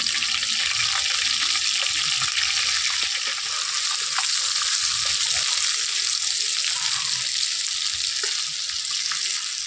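Steady, dense sizzling of potatoes frying in hot mustard oil with salt and turmeric, loud and close, with faint clinks and stirring throughout and no voices.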